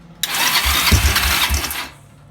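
Kawasaki ATV engine cranking and trying to start, a loud close burst of rough churning that sputters for about one and a half seconds, then cuts out without catching.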